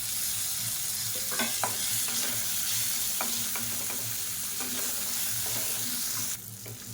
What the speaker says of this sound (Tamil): மீடியமான ஃப்ளேமில் வதக்கி எடுத்துக்கலாம்.